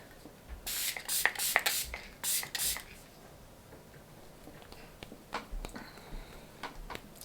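Several short, close hissing bursts of face setting spray are followed by soft rubbing and handling sounds, with a quiet voice between them.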